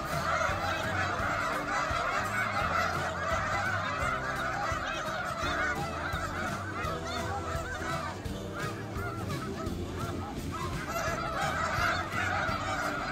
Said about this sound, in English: These snow geese always have an eye out looking for danger